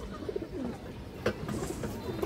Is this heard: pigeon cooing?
yes